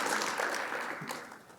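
Applause from an audience, a dense wash of clapping that starts loud and slowly tapers off, with no voices over it.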